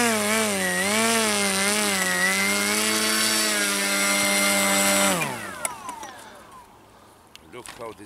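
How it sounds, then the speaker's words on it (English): HobbyKing SuperG 1080 RC plane motor taxiing on grass: a loud, steady engine drone with a wavering pitch that drops away sharply as the throttle is cut, leaving quieter clicks and noise. "This baby taxis on the grass."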